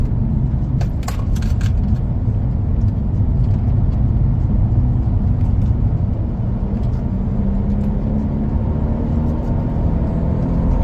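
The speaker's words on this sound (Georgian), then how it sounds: "ხო გავიდა ერთი მანქანა." A race car at the first stage of the Koteta Cup motor race drives past with a steady, loud engine roar that swells gently toward the end, heard alone with no talking.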